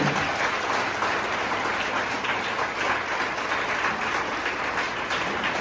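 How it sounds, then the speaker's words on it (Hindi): An audience at a leaders' meeting in Haridwar claps with both full hands together, a dense, steady wash of applause that holds loud for several seconds. "अब पूरे दोनों हाथों में मिला के बजाना है"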